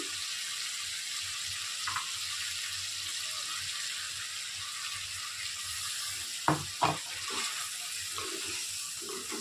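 Coriander leaf paste made with garlic, green chilli and water sizzles in a pan with a steady soft hiss, joined by a couple of sharp stirring knocks near the end, and no voice.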